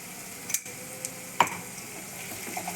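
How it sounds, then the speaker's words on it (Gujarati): Garlic, chili and ginger paste sautés in hot oil with a soft, steady sizzle, broken by a few light clicks and taps of stirring, fairly quiet and close with no talking. "એને પણ તેલમાં થોડી વાર સાતળી લઈશું."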